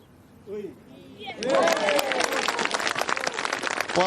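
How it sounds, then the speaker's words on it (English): A golf crowd at the Amundi Evian Championship in France cheers and applauds a final-round approach shot, bursting from near quiet into loud, sustained clapping with whoops and voices from the gallery. "one more cheer for Boutier in France"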